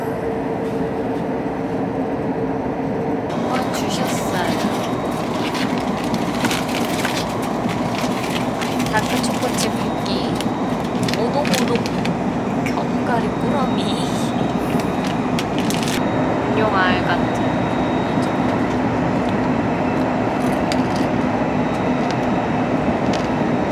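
Steady rumble and rattle inside a moving train travelling to Busan, passing through a tunnel, with continuous rolling noise, intermittent clicks and clatter throughout, and a voice talking over it.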